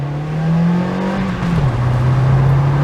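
An MK4 VW Golf GTI engine pulls uphill, loud and close, a steady drone that holds pitch and then drops after a gear change before settling again.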